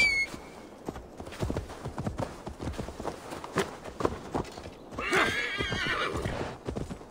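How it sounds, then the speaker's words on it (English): In the video game Assassin's Creed Valhalla, hooves clop steadily at a walking pace, then a horse gives a loud, drawn-out whinny before the hoofbeats resume. "Let's call my horse."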